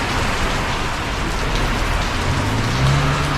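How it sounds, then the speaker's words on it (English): Heavy tropical downpour in Guadeloupe drumming steadily on nearby surfaces, a dense continuous hiss with a faint low engine-like hum beneath, no voices. "now it's just pouring down"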